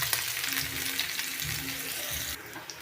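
Chopped onion and garlic fry in hot oil in a pan for mustard greens, with a dense, steady sizzle close by and a soft stir partway through.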